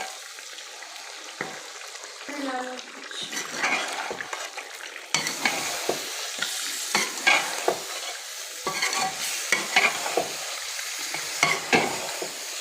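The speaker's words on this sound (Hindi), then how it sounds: "अब इनको अच्छी तरह मिक्स कर लीजिए।" Chicken with yogurt and browned fried onions is stirred in a pan, a spoon scraping and clinking in repeated strokes over a soft, steady sizzle.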